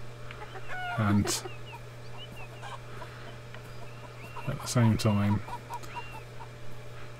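A chicken clucks in the video game Beyond Eyes, in two short bursts of cackling over a steady low hum, while someone talks briefly.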